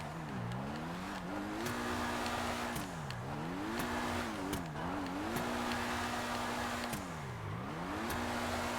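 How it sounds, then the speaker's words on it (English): A Pegassi Infernus Classic in GTA 5 Online drifts and skids, its engine note swooping up and down through repeated revs and shifts while sharp tire squeals cut in at intervals, loud and close throughout. "Not just drifting, but like legitimately whipping out some skids here."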